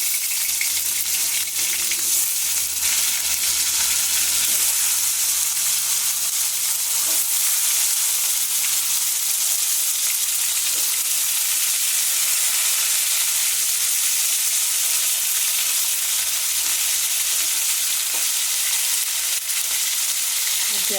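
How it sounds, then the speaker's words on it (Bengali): Fish frying in hot oil in a home kitchen, a loud, steady, close crackling sizzle that continues evenly throughout with no talking. "তেলটা গরম হয়ে গেছে, এবারে মাছগুলো একটা একটা দিয়ে দিই।"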